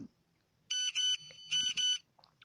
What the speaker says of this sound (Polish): To słyszę za każdym razem, jak przyjdzie mi jakiś SMS.